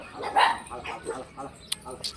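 Several high, short puppy yelps and whimpers in quick succession, close by, with some talking mixed in.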